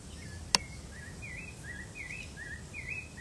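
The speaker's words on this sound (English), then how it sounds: "I hope you can enjoy the sounds of the birds." Birds sing in dense wild nature among palm trees, a run of short repeated chirps at moderate distance over a faint background hiss, with one sharp click early on.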